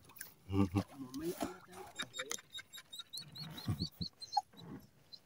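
A dog whines and cries in high, wavering bursts on a fishing boat at sea, with people talking nearby and background noise throughout.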